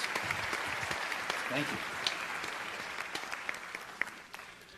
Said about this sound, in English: give a big round of applause to the conference organizers for having me out today